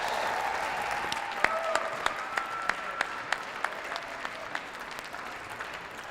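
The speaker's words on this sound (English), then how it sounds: "can everyone give a great big round of applause to the Glaze-Merrick family for winning first place in this year's Trivia Challenge" Scattered applause rises from the audience at a trivia challenge as the first-place family is honoured. A few sharp, distinct claps stand out close by over a softer steady patter of hands, and a faint voice carries underneath.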